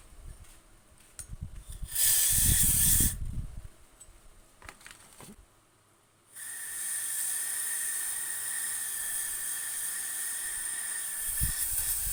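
Injector cleaner is sprayed onto a motorcycle throttle body: a loud, hissing aerosol burst lasts about a second, and after a pause comes a longer, steady spray of several seconds, with faint clicks and handling noises in between.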